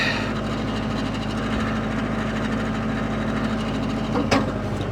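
Excavator digging a water well trench, its diesel engine running at slightly raised RPM, a loud steady low rumble with a brief clank near the end.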